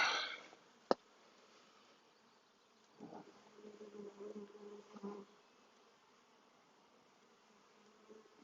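Honeybees buzz faintly in an open hive during an inspection as a young adult bee emerges from its cell, a sharp click near the start and a low, wavering hum swelling midway.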